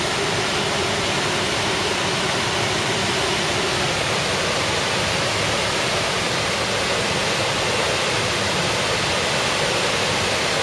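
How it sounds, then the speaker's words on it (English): Water at the Aratiatia Dam near Taupo roars through an opening gate as a loud, dense, unbroken rush that fills the whole clip without pause. "Dude, there's a lot of water in there."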